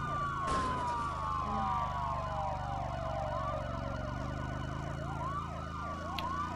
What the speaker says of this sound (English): I think the sirens do piss off eventually